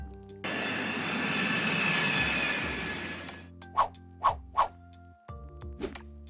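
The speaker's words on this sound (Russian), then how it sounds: "А теперь пристегните ремни безопасности, мы взлетаем." A fixed-wing airplane takes off with a loud, rising roar of jet engines lasting several seconds, followed by a few sharp knocking thumps.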